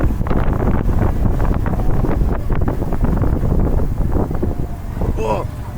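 Wind roars steadily past the microphone on the Helix roller coaster at Drievliet park, a loud continuous rumbling buffet with riders shouting faintly underneath.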